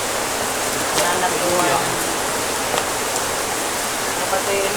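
Heavy rain pours steadily and loudly as a dense hiss, with thunder and lightning in the storm; faint voices are barely audible beneath it.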